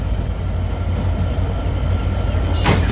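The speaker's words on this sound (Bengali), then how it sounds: "এই যে ট্রেন আসছে দেখেন" Sundarban Express pulling into Alamdanga railway station, a steady low rumble and rolling noise of the approaching train, loud and continuous throughout, with a brief burst of hiss near the end.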